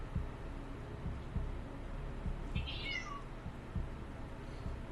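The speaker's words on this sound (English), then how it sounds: "he could still hear his cat meowing at the door for hours" A cat gives a single short, faint meow at a door against a low, steady background hum with soft periodic thumps.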